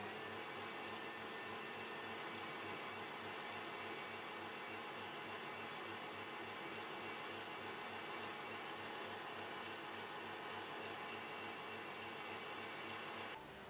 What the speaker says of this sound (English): I'm going to mix it for 1 more minute and gradually add the egg yolks